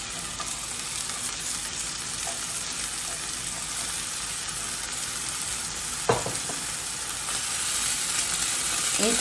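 Onion frying in a pan makes a dense, even sizzle that hisses continuously and close by, with one brief knock partway through and the frying growing slightly louder toward the end.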